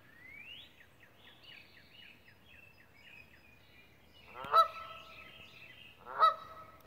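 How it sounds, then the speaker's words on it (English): Geese on a roof honk repeatedly from a short distance, a series of nasal calls followed by two louder, sharper honks. "Goose on the roof"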